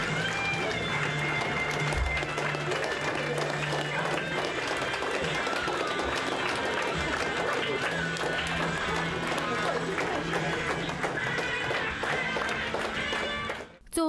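Applause greeting tax police officers of the Phantom unit in Prikarpattia, returning from service in the ATO zone: sustained, dense clapping from a crowd indoors, with talk and a voice running over it throughout.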